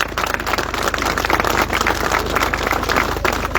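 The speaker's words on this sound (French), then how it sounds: "applaudissez-les encore à ces jeunes, hein, parce qu'on en a besoin" Crowd applause for young farmers at an outdoor farmers' protest on the A75 in Lozère, France: steady, dense clapping across the whole stretch with a low engine-like hum underneath.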